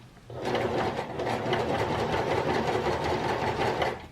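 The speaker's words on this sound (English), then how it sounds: "I'm sewing kind of funky so it can get filmed" Sewing machine stitching a fabric face mask, running in one steady, continuous burst of fast mechanical whirring and needle rattle for about three and a half seconds, close and loud with no talking.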